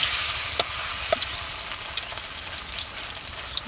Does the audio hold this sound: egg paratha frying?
yes